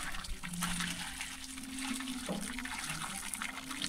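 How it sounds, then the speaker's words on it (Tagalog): Water pours steadily into a concrete mix at an outdoor construction site while posts are being cast, a continuous close splashing rush that fills the whole stretch. "pasali na ako ng tubig yun sa gitna"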